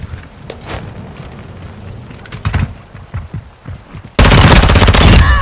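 Gunfire in the Modern Warfare 2 video game, with scattered shots and bursts that give way to a loud, sustained stretch of rapid automatic fire near the end.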